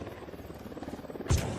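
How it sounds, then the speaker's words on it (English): A helicopter arrives in the video game Ghost Recon Wildlands, its rotor producing a low rhythmic thrum that grows slightly, with a sharp thump near the end. "Helicopter incoming."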